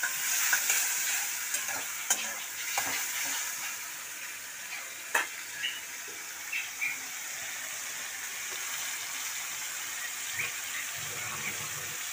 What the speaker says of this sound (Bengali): আমি এই মাছ ভাজার তেলে ছড়ে নেবো